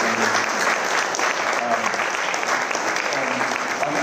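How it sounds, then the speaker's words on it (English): Dense, continuous audience applause at a city event, steady and close, with faint crowd voices beneath the clapping. "A big round of applause"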